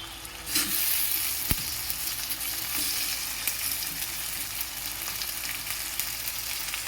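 Onion and garlic frying in a pan for an egg and lentil dal, a steady close sizzle and crackle running throughout with a sharp clink partway, no voices.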